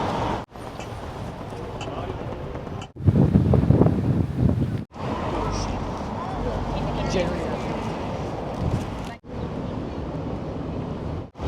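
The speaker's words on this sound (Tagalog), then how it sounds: "Lakas ng hangin." Wind gusts rumble against the microphone outdoors in Stockholm's Gamla Stan in uneven bursts, strongest in the middle, with several abrupt cutouts between segments and faint voices in the background.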